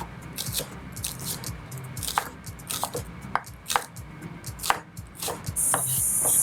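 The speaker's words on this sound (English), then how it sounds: "I'm going to just cut the white part of the onions right here." Knife chopping through white parts of green onions on a cutting board, a run of close, crisp taps in an uneven rhythm, with no talking.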